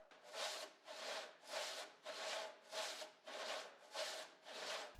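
A panel saw with 3.5 TPI rip teeth resaws a 12-inch ash board in eight even, rhythmic push strokes, each a rasping whoosh with short gaps between, close and clear with no talk.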